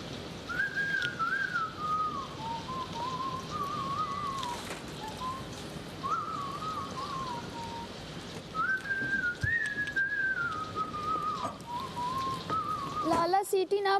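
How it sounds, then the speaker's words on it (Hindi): A person whistles a wavering, sliding melody in several phrases, close and fairly loud, over steady background hiss and room noise during an uncut reality-show scene. "इतनी अच्छी सीटी बजाते हैं आप।"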